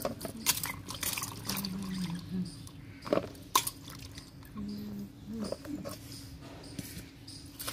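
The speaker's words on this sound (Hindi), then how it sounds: "इसको खूब बढ़िया से धो ले रहे हैं" Peeled, cut snake gourd pieces are washed by hand in water, with soft splashes, drips and wet handling sounds coming in irregular bursts at close range.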